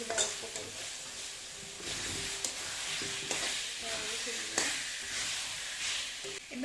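Potatoes frying in a pan in a home kitchen: a continuous soft sizzle with stirring and scraping sounds, close and fairly quiet.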